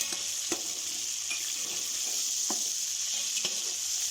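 Whole spices and chicken fry in ghee with a steady loud sizzle, broken by a few short stirring scrapes.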